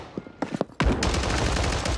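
COR-45 pistol fired in a Rebirth Island battle royale match, a few quiet sharp pops at first, then a sudden loud burst of rapid gunfire that rattles on continuously close by.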